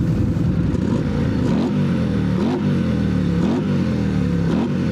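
A Harley-Davidson CVO with a built 135 engine and dual exhaust pipes revs repeatedly up close, its loud throaty rumble surging and falling in several pulls on the throttle.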